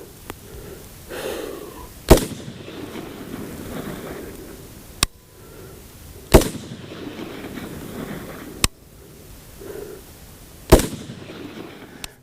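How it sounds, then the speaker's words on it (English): A rifle fires at 50 yards while being zeroed on an outdoor range: three loud sharp shots about four seconds apart, each trailing off in echo, with fainter distant cracks in between. "I'm gonna shoot this one more time at the 50 and see where I'm at"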